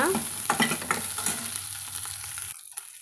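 Halved onions sautéing in a pan until golden, for a chow chow kuzhambu: a close, steady sizzle with stirring scrapes that cuts off abruptly near the end, with no voices.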